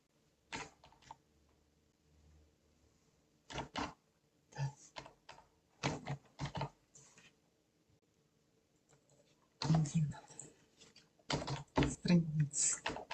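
Typing on a computer keyboard while entering catalogue data into library software, with short bursts of clicking keys separated by pauses and a denser run of keystrokes near the end, fairly close and moderately quiet.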